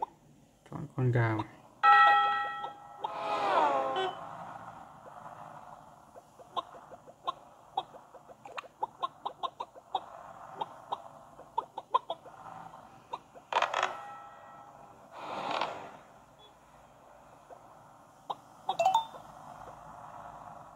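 Chicken character sounds from a mobile party game, with clucks and squawks mixed among chimes, creaks and scattered bursts of game effects, sometimes under voices.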